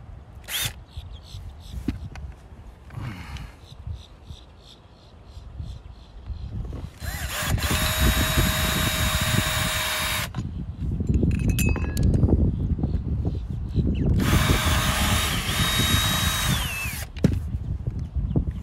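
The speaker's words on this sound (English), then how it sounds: "We're gonna drill a hole right there and right here" A power drill bores holes into the cover of a Maxx Air RV roof fan on a Grand Design trailer, with two long, loud whining drill runs separated by clinks and handling of hardware.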